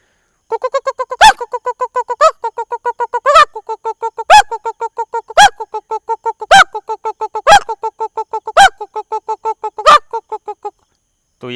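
A voice mimics a desi (Indian country) hen's clucking with a rapid, steady string of short clucks, punctuated roughly every second by a sharper, louder squawk.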